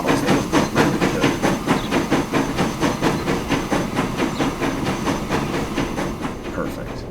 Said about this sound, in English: How long is this train? It's a pretty long train, actually.